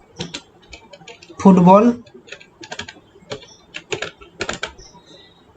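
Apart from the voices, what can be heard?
typing on a computer keyboard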